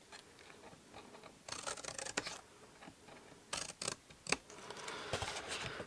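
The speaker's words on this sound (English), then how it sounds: "I need to cut that bit too." Quiet scissor snips through card while making a note card box, a few short crisp cuts in small clusters amid faint handling rustles, no voices.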